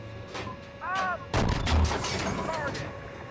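An M1A2 tank cannon fires in the Steel Beasts Pro PE game, one loud booming blast that rolls on and rumbles after a quieter stretch with faint tones.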